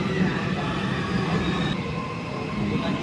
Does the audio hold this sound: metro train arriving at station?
yes